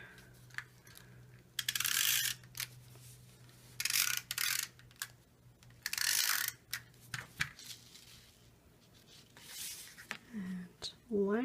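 A snail adhesive tape runner lays glue on a card base for a shaker card, giving several short, close, quiet rasping ratchety bursts separated by pauses.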